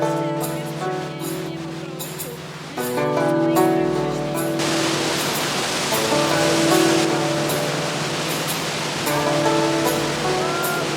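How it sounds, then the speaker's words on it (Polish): Rushing water on a mountain trail up Fansipan in Vietnam, a steady broadband hiss that swells louder midway and stays continuous, mixed with tonal music and voices. "Słychać już wodę."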